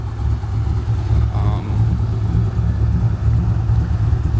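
A 2000 Corvette, repainted light blue metallic, with a big-cam engine running steadily at a lumpy, loud idle with a deep rumble throughout, and a faint voice briefly in the background.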